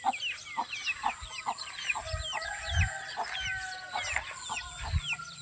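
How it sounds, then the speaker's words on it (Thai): Hens foraging outdoors on a rural Thai morning cluck repeatedly in irregular bursts while bird chirps fill the background, with a rooster crowing among them; no voices. "ไก่หาอยู่หากิน"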